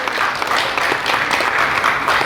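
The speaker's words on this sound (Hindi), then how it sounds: "इनका जोरदार तालियों के साथ स्वागत कीजिए" Loud, dense applause from an audience welcoming an award recipient at a Ratan Tata honour ceremony, a steady wash of many hands clapping throughout with no gaps.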